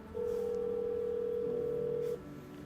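A steady telephone tone inside a video game's phone-roulette call, holding level for about two seconds before cutting off, with faint background hum and no talking.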